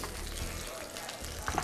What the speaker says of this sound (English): So while our salmon is sizzling